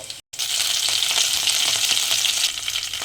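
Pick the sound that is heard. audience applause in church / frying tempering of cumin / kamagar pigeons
frying tempering of cumin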